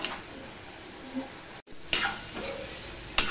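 Spice paste for a bottle gourd curry fries and is stirred in a pan, a steady sizzle broken by brief spatula scrapes and clanks, with one short gap.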